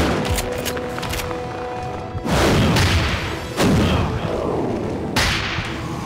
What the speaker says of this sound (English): Grenade for the win.